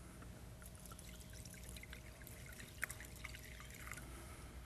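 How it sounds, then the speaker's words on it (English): Quiet ethanol fuel pouring into a container, a soft steady trickle with a few faint drips and a small clink partway through. "We're going to pour some David Liles ethanol fuels in here"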